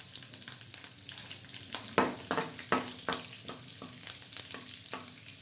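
Curry leaves crackle and sizzle in hot oil in a pan, a steady frying hiss broken by sharp, close spits and pops, several louder bursts, with no voices.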